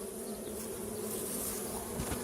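A dense, steady hum of many honeybees buzzing close by, continuous throughout with no voices.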